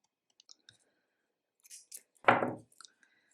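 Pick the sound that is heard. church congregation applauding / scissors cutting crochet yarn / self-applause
scissors cutting crochet yarn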